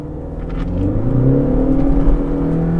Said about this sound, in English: this car definitely sounds so much better now because of the BMC air intake as well as the exhaust